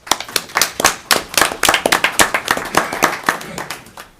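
Sparse applause at a school board meeting honoring a Windsor High School graduate, a handful of people clapping in distinct, uneven bursts that rise and fall across the room.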